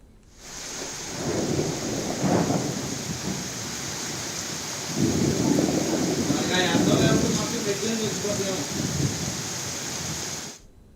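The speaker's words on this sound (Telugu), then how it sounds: "ఉరుములు మెరుపులతో కూడిన వర్షం కురుస్తుంది" Steady rain hisses throughout, with deep rumbling swells of thunder rolling in twice, loud and broad, nearly filling the whole stretch.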